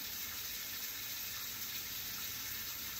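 A plate is scrubbed by hand under a running kitchen tap, with a steady wash of water pouring into the sink throughout and no talking.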